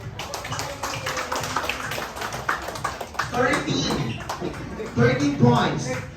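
Guests at a child's first birthday party clap and cheer to vote in a contest, uneven bursts of applause and shouts rising louder toward the end, mixed with chatter.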